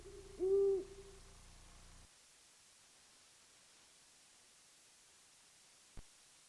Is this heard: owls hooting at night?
yes